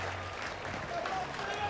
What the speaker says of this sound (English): Applauded by the Australian crowd who have made the journey